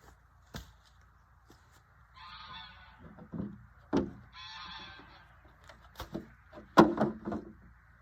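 Geese honk in a couple of raspy bursts nearby, amid scattered knocks and thumps outdoors in a garden where garlic is planted and dahlias dug up.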